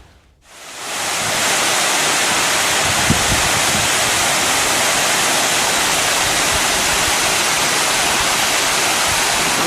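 Heavy rain has swollen the flow at Old Courtallam falls, producing a steady, loud, full-bodied roar of rushing water that holds constant throughout with no voices.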